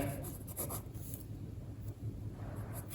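A pen scrapes steadily on paper while a math solution for a pair of linear equations is written out by hand, with close, continuous strokes and brief pauses.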